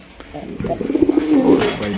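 Raj Golla pigeon gives a rolling, throaty coo, a warbling call that builds and pulses several times up close and fairly loud over a soft background hiss.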